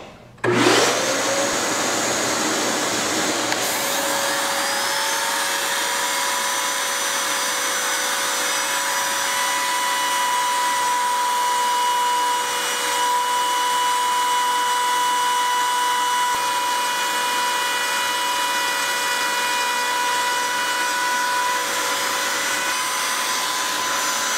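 A trim router cuts outline grooves in wood along a clamped straight guide, its motor holding one steady, loud high whine for the whole stretch after a sharp start, with no talking.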